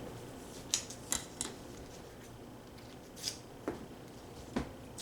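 Scissors snipping through a paper template, a handful of short, crisp cuts spaced irregularly, quiet and close, alone with no talk.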